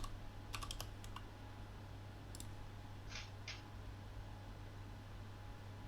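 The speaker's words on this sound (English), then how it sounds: "It's those mechanical keyboard people." A mechanical keyboard gives off a few quick bursts of clicky keystrokes, short clustered taps over a low steady hum, fairly faint with pauses between the runs.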